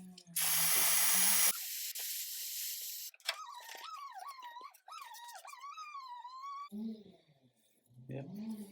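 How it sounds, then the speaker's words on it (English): Brake cleaner sprays onto a Ford Ka engine part during thermostat replacement: a loud, close, hard hiss lasting about a second, followed by quieter hissing and then talk. "Just a bit more brake cleaner."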